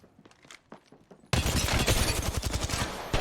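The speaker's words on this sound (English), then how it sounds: "They spotted me. I'm taking shots." Apex Legends gunfire bursts in suddenly after quiet footsteps, turning into loud, rapid, sustained automatic fire with rhythmic shots that continue to the end.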